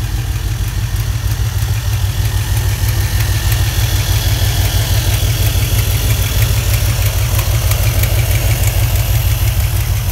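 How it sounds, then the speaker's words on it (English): A 1979 Pontiac Trans-Am's engine idles loudly and close by, a deep, steady, rumbling throb with a fast regular pulse that holds for the whole stretch, with no talking. "All right, so we have the Trans-Am running."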